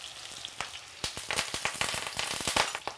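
Onion and fresh curry leaves dropped into hot oil in a wok, quiet at first and then a burst of crackling pops and sizzling spatters that continues unevenly, with no talk.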